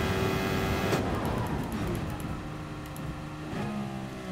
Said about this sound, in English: But listen when I brake, for those of you who haven't heard it, it engages neutral.